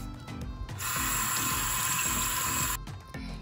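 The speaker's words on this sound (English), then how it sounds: "And rinse off." Water from a running tap pours steadily over hands being rinsed in a sink, a close, continuous broadband rush that starts abruptly and stops after a few seconds.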